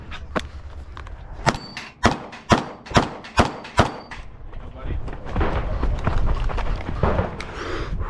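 A Staccato XC pistol fires a quick string of about eight sharp, loud shots in close succession on a shooting range, then the reports give way to a murmur of movement and ambient noise.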